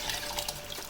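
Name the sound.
pouring mutton cooking water stock into masala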